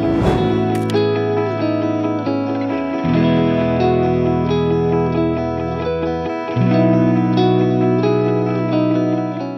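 A 1962 Fender Stratocaster electric guitar plays a loop of sustained chords, loud and close, with an echoing, effects-laden tone and no speech.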